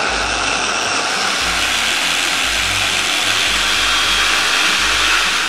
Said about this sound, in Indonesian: Oke, sekarang tinggal kita alusin aja.